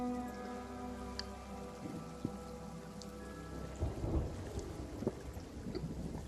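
Steady rain pours down during a storm in Sea of Thieves, with low rumbling thunder rolling underneath and a few sharper cracks, heard at moderate distance with no talking.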